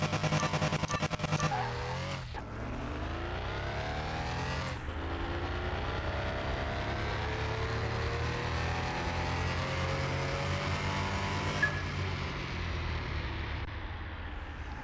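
A 2016 Porsche Carrera 4S in a racing video game revs hard and climbs through the gears, its engine tone rising steadily between several sharp shifts, loud and close with no talking.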